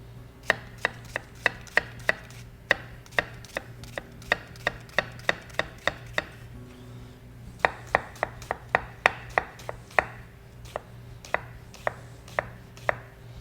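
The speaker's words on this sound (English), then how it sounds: "And then we cut the onion." A knife chops an onion finely on a board, a long run of fast, crisp, evenly spaced cuts close by, with a short pause midway and a steady low hum beneath.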